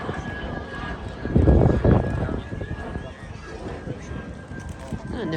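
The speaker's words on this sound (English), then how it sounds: "the lovely harmonious whistling sound of the de Havilland Goblin turbojet engine" A de Havilland Vampire T11's Goblin turbojet gives off a steady, high whistling drone at an air show flying display, with a loud swell of engine roar midway and a voice talking over it throughout.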